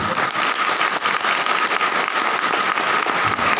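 Loud, continuous applause fills a hall at a Safeshop business event, a thick crackling wall of many hands clapping that holds steady throughout without a break.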